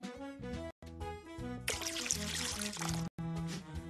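Orange juice poured in a kids' baking app game, a steady liquid rush of about a second and a half riding over cheerful background music.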